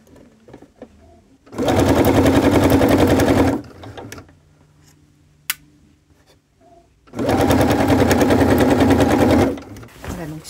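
Two loud, sustained bursts of a sewing machine stitching fabric for a polo placket, each about two seconds long and separated by a quieter pause with faint handling sounds.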